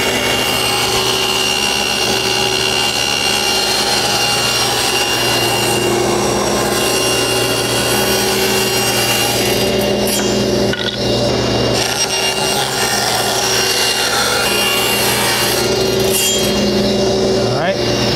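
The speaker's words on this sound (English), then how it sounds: "I need to cut some strips of wood, so let's do those first." A saw is ripping strips of wood at a 3/4-inch setting. It gives a loud, continuous, close whirring and cutting roar that holds for the whole stretch, with brief dips as the pieces feed through.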